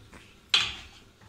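The lid comes off a cooking pot of steamed basen khandilyan in a home kitchen, giving a single sharp metallic clink that fades over about half a second, with quiet background before and after.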